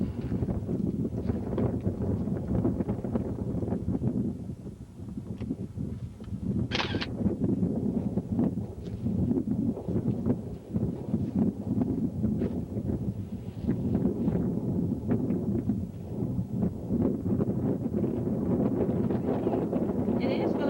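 Steady gusty wind buffets the microphone with a low rumble throughout at an outdoor earthquake site, with people talking faintly underneath.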